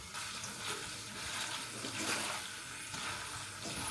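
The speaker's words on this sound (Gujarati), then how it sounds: "તો આપણે એ બધા પાલકના પાંદડા લઈ સાપ એકદમ ઠંડા પાણીએ ધોઈ નાખીએ." Baby spinach leaves are washed by hand in cold water, giving soft splashing and sloshing with intermittent swishes as the leaves are moved about, close and moderately quiet.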